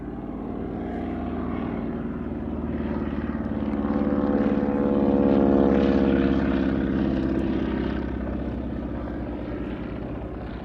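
Cri-Cri and Broussard propeller aircraft flying at an airshow in France, a droning engine hum with a steady tone that swells as they pass closest and then fades slightly.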